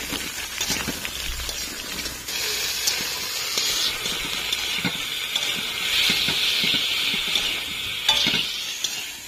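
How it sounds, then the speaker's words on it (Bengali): Pointed gourd (potol) pieces frying in oil, a loud, continuous hissing sizzle up close with occasional stirring clicks and no voices. "পটলগুলোকে ভালো করে ভেজে নেবো প্রথমে"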